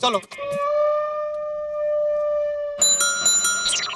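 A bell rings with a clear, sustained tone that fades slowly, followed by a burst of brighter chiming; brief voices are heard at the start.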